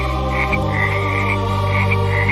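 A frog croaking sound effect plays over a sustained musical drone in a dramatic retelling of the plagues of Egypt, with repeated pulsing croaks running through the clip.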